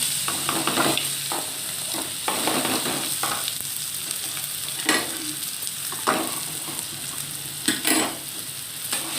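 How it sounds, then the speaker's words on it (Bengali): Chopped onion fries in hot oil for a koi fish dish, a steady close sizzle broken by repeated scraping stirs of a spoon in the pan, with no voices. "এই তেলটার মধ্যেই আমি সমস্তটা ভেজে নেব। দিয়ে দিলাম পেঁয়াজ কুচি"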